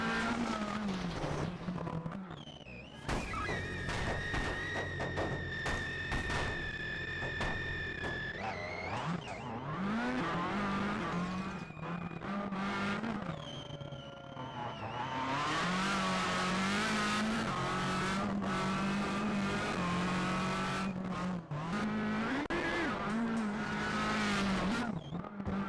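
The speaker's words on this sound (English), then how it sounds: "Miraculously the car ends up on his wheel and can continue to drive." A rally car drives a gravel stage, SS13 of the Coffs Harbour Rally, its engine revving hard and changing pitch through gear shifts, with tire skids and bursts of throttle, loud and continuous from on board.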